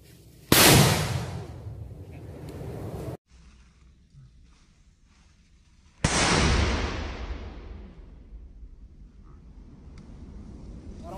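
Two long hissing, roaring sprays of a firework fountain, each starting abruptly and fading slowly, loud and fairly close, with a quiet gap between them.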